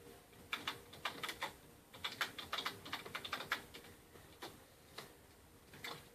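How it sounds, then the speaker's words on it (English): Quick bursts of typing on a USB keyboard plugged into a PS4, soft clustered keystrokes with short pauses between runs, close and fairly quiet with no voices. "I have a USB keyboard plugged into my PS4."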